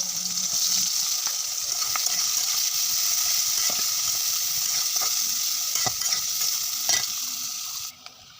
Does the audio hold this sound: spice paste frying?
yes